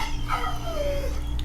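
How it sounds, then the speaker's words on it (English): A dog gives a single drawn-out whining howl that rises and then slides downward, at a moderate distance over a low, steady background hum. "There's a dog crying again."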